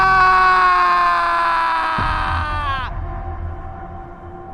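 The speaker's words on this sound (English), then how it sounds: "all he can hear are his screams of sheer panic." A man's loud, sustained scream of panic with a harsh, strained tone that cuts off abruptly, leaving a low rumbling hum behind.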